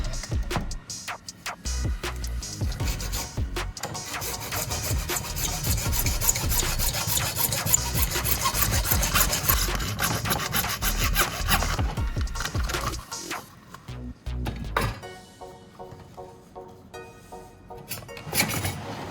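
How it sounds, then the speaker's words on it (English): A saw cuts into the long section of a pipe in dense back-and-forth rasping strokes that run steadily, then thin out into quieter, sparser scrapes toward the end. "make another cut right in the middle of the long section of the pipe to open it up"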